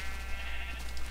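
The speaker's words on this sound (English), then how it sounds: "baby sheep eat like crazy, you know" Sheep bleating in the Minecraft video game, a steady game sound close and clear with no talk over it.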